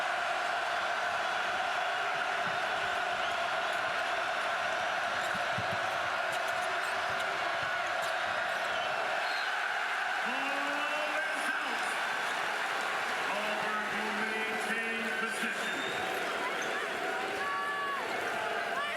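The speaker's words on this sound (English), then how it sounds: "Listen to this crowd." A basketball arena crowd at a college men's game roars in a sustained, loud wall of cheering and noise, with a few whistles or shouts rising above it and sneaker squeaks underneath.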